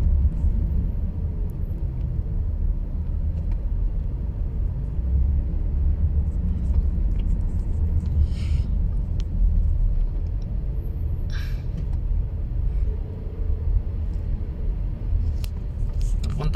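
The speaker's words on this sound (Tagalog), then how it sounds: "Bakit traffic pa rin ang main road?" Road traffic on a congested main road near an airport forms a steady low rumble of engines with occasional brief hisses and clanks, while someone talks over it.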